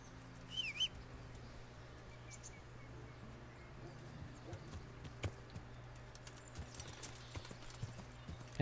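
Horse hooves clip-clop at a walk in the medieval open world of Kingdom Come Deliverance, soft irregular steps under ambient birdsong and a faint low hum, with a few louder hoof knocks.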